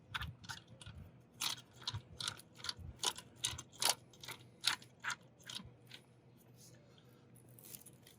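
A patio umbrella stem being screwed into a 55 lb under-table base gives off a run of light, irregular clicks and ticks of threads turning. They are close and fairly faint and fade toward the end.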